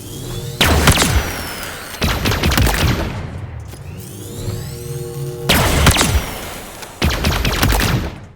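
Bursts of weapon fire in Halo Infinite boom and crack in loud rapid volleys, each cluster ending with a ringing, whooshing tail. About four heavy barrages come at irregular intervals.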